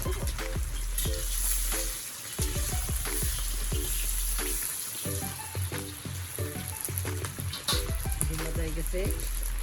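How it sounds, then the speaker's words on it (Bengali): Eggs frying in hot oil for a Bengali egg curry, a steady close sizzle running throughout with a voice or tonal sounds over it. "ডিম ভাজা কমপ্লিট"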